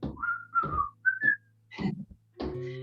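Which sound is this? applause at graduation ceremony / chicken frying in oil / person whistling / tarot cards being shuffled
person whistling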